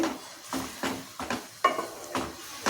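Tomatoes and spices cook in oil in a pan with a steady frying hiss, broken by about six rhythmic stirring scrapes of a spoon against the pan, close by and moderately loud, with no talking.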